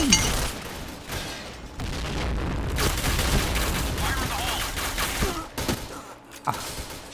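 Video game gunfire bursts out in rapid, dense volleys, loud and close, mixed with a busy game soundtrack, with a short gap and a few sharper shots near the end.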